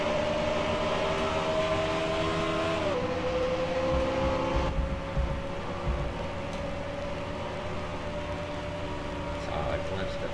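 An MG Cup race car from the 2004 series at Kansas drones steadily from the onboard camera, its engine tone holding then dropping slightly as it shifts, loud and continuous throughout.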